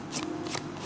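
Tarot cards being shuffled by hand, two quick crisp riffling bursts close up against a steady low room hum, with no talk.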